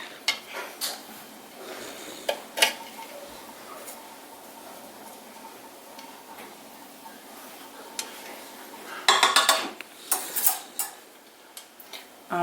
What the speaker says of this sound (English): You want to scrape all those little seeds out.